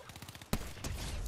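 A sharp gunshot bursts out in the middle of the battle game Fortnite, followed by a second weaker shot, heard quietly after a stretch of soft rhythmic noise.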